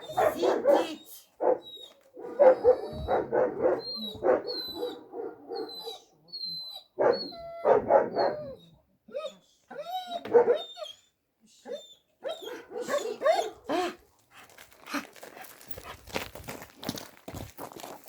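A dog barks and yelps repeatedly outdoors while leaving a courtyard, in loud close bursts with pauses between them, along with footsteps and occasional short human voices.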